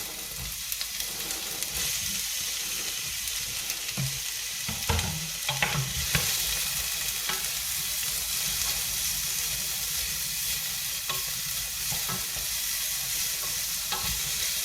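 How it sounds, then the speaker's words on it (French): Onions and carrots sizzle in hot oil for Moroccan-style lentils, a continuous loud frying hiss with occasional stirring scrapes and bursts of crackle, no voices. "Dès que mon huile échappe, je vais venir mettre mes oignons avec les carottes."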